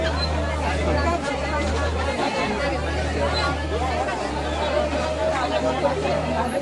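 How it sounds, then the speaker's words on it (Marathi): A dense crowd fills the Monday main market in Malvan during the Ganpati festival days, with steady, close babble of many voices and a low engine-like hum underneath. "सध्या गणपतीचे दिवस आहेत त्यामुळे खूपच गर्दी आहे"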